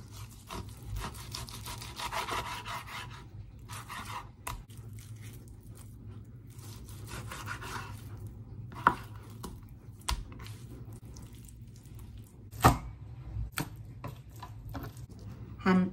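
Repeated knife strokes chopping through frozen lemongrass stalks on a board, a steady scraping, rubbing rhythm with a few sharper thuds, close up.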